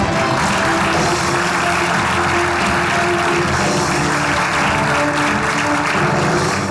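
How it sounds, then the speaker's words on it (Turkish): A studio audience at the Güldür Güldür Show comedy stage applauding a contestant, a loud, dense and continuous wash of clapping that lasts the whole stretch without letting up. "Alkışlıyoruz."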